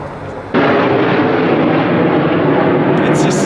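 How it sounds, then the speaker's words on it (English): Canadian Snowbirds aerobatic jets roar overhead near an airport in London, Ontario, a loud sustained engine rush that bursts in suddenly and holds steady, with a person exclaiming over it. "Those are the Canadian snowbirds"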